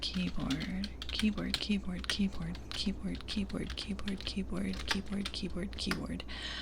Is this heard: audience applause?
no